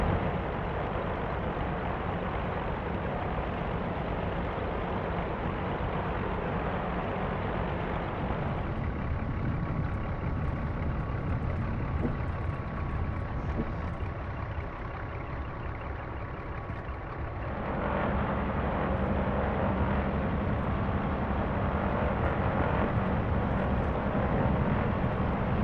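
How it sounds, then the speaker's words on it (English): A BN-2 Islander twin-engine propeller plane in a flight simulator taxis toward the runway, its steady engine drone continuous throughout, with a shift in tone about two-thirds of the way through as the engine note changes. "Release the parking brake, and let's taxi over to the runway."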